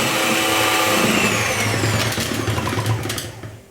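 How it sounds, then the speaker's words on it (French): An electric whisk beats muffin batter with added oil, a loud, continuous mechanical whir that runs steadily for a few seconds and then winds down at the end. "je rajoute l'huile, je mélange et je refouette pendant à peu près 10 secondes"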